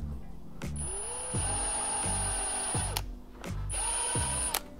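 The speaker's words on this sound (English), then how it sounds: "So you want to drill straight with your little notch that he gave you." A small power drill whirs in repeated short bursts, its pitch rising as it spins up, with pauses between each run.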